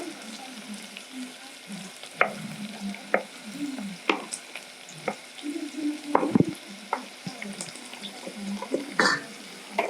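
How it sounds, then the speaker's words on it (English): Liver sizzling and frying in a pan for a liver stew served with mukimo, with scattered sharp clicks and scrapes of stirring over a steady low crackle, close up and with no talking. "you can now cook the liver"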